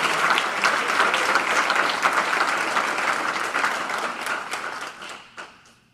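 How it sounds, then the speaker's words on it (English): Audience applause at a university golf team's NCAA selection show, a steady dense wash of many hands clapping that holds for several seconds and then tapers away at the end. "So give them applause for that."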